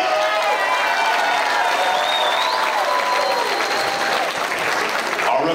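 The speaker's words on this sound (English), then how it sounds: "have a big round of applause for these men starting the night." A crowd at a boxing match applauds loudly, with clapping and some cheering that sustain evenly throughout, and a few whistles mixed in.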